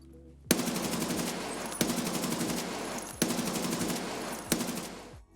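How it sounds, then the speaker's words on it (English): An AK-12 rifle without a suppressor fires in Escape From Tarkov, four loud bursts of rapid automatic shots, each burst starting with a sharp crack and ending with a short decaying tail. "the sound of firing an AK-12 without a suppressor is one of the most satisfying things"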